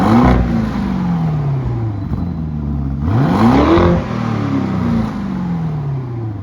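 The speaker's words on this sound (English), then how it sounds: "It has that real distinct twin turbo noise that you hear in most cars that come out these days" A twin-turbo car engine revs loudly and repeatedly, pitch sweeping up and down with each blip of the throttle, close by and without speech.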